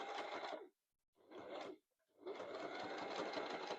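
A home sewing machine stitches fabric at its slowest speed, a loud close whirring run that stops briefly twice before starting again.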